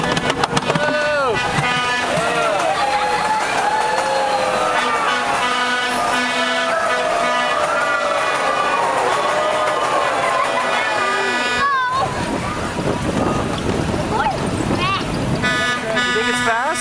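A small train ride at Balboa Park rolls into its station with steady rumbling, squealing wheels and whistle-like tones, while riders talk throughout and the noise drops away briefly near the end.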